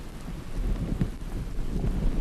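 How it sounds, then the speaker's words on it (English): Rain patters steadily outdoors in the Flinders Ranges with a low rumble of wind or distant thunder beneath it, no one speaking. "And now it's raining."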